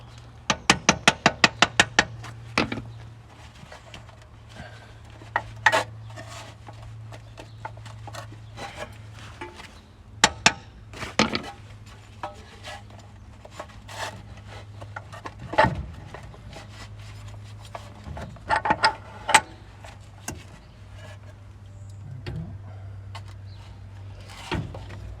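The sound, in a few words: tapping CV joint on Toyota 4Runner to remove it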